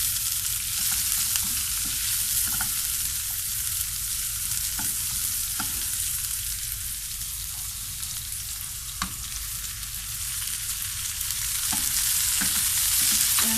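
Pre-boiled sausage gets a light sauté in a pan for a baked macaroni casserole, sizzling and crackling steadily throughout with occasional sharp pops and stirring scrapes, close and fairly loud.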